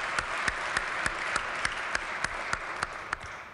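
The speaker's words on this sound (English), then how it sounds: "please give Gatsby a warm round of applause" Applause in a legislative chamber welcoming a guest, a soft, distant wash of clapping with a few sharp individual claps standing out at a regular pace.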